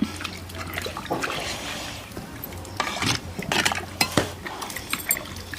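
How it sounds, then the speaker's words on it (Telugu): Water sloshes and trickles as capsicum chicken curry is stirred in a clay pot over a wood fire, with scattered clinks and scrapes of a utensil against the sides. "సరిపడా నీళ్ళైతే పోసుకొని బాగా కలుపుకుందాం"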